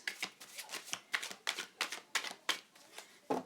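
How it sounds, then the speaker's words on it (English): Tarot cards being shuffled close by, a quick series of about ten crisp riffling bursts in an even rhythm, with no voices. "Let me just shuffle those cards a minute, please."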